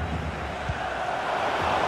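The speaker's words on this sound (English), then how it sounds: "The crowd encouraging him to take it on." Stadium crowd at a Euro 2024 group-stage football match between Spain and Italy, a steady, broad roar of encouragement rising slightly as play builds, continuous and moderately loud throughout.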